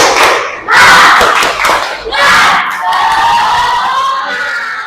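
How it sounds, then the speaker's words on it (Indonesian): Classroom of students doing a rhythmic spirit clap-and-shout cheer led by a teacher, with loud bursts of group clapping and shouting in short phrases, close and energetic. "supaya lebih semangat, kita tepuk semangat dulu ya."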